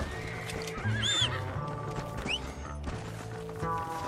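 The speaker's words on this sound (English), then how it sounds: "Vou pegar meu cavalo aqui." Horse neighs and whinnies in a Red Dead Redemption game scene, with clip-clopping hooves, game music and effects underneath, all close and fairly loud.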